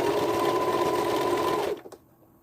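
Sewing machine stitching patchwork fabric in a continuous close, steady whir for under two seconds, then stopping with a couple of faint clicks.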